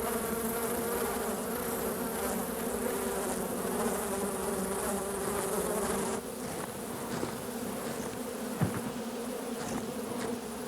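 Bees swarm around a hive being raided by a bear in a swamp, a dense, continuous buzzing hum that stays loud and close for the whole stretch, with no voices.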